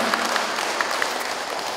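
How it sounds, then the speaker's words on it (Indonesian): Brief burst of audience applause for the vice governor at the opening of a Malay dance festival, a steady, fairly loud patter of many hands clapping. "Beri tepuk tangan sekali lagi Pak"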